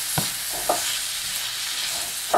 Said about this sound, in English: Give it a good mix and good turn